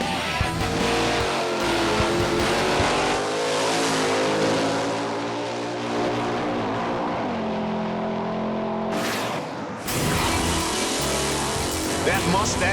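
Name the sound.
Mustang drag race car accelerating at Bandimere Speedway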